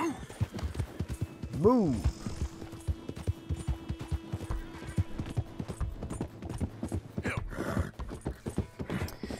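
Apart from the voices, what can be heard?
horse galloping in video game Red Dead Redemption 2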